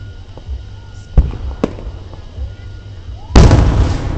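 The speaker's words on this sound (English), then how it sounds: "What's going on with these fireworks?" Fireworks at an outdoor show in Hot Springs, Arkansas burst in a few sharp separate cracks, followed by a big loud crackling explosion near the end, over faint background crowd noise.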